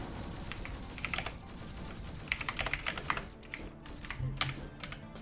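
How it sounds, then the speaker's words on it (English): Quiet, irregular clicking of fingers typing on a computer keyboard, with short bursts of keystrokes and brief pauses in a calm indoor setting, and no voices. "Keyboard."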